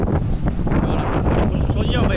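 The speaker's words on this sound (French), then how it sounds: "Un petit peu de vent, mais bon c'est pas grave" Wind buffets the microphone on a boat out at sea, a loud, rough, continuous roar with gusty low rumble, with a voice faintly audible under it.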